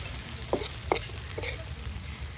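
Broad beans (sim) frying in a pan give a low, steady sizzle with a few soft scrapes of a stirring utensil, fairly quiet and close, with no one talking.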